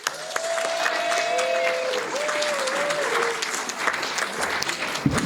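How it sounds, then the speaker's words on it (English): An audience claps steadily and warmly to welcome a speaker on stage at a family and friends reunion event, dense applause filling the room at an even level with faint whistles and cheers mixed in. "Let's give a warm welcome and round of applause for Ali Velshi."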